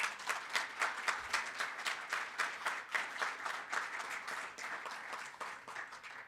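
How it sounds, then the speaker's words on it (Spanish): An audience claps for a guest being introduced at a Spanish-language event with Vatican Radio: sustained, fairly rhythmic applause from a seated crowd that holds steady and then eases slightly toward the end, with no talking. "Un aplauso, por favor"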